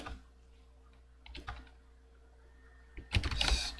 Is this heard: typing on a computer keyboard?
yes